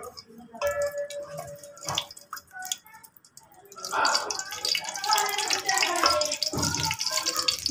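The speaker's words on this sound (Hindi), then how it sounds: "अब मैंने पतीले में ऑयल डाल दिया" Cooking oil poured from a bowl into a pot for suji and maida halwa makes a close, trickling liquid splash with dripping, following a stretch where someone speaks.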